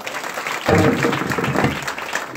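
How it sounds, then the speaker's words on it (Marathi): An audience bursts into applause for the guru at a devotional gathering, a sudden full wash of clapping that begins abruptly and holds steady to the end. "गुरुजींसाठी टाळ्या वाजा."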